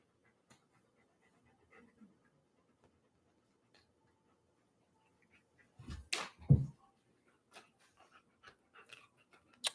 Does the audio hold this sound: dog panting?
yes